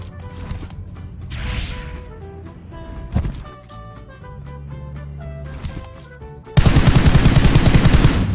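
Gunfire from an M4 rifle in a mobile shooter game, with scattered shots over game sounds and music before a dense, loud sustained burst of automatic fire near the end.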